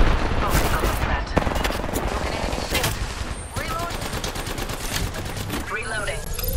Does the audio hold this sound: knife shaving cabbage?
no